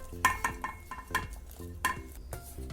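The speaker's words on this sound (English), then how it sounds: "Stir it nicely." Milk with added dry fruits is stirred in a pan, giving soft scraping and clinking of a spoon against the metal in an uneven rhythm, close and fairly quiet.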